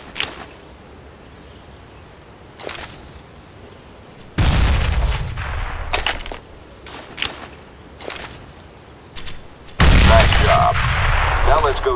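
Counter-Strike: Global Offensive weapons course, with sharp gunshot cracks and thuds scattered throughout and two heavy booming grenade blasts, the second loudest near the end.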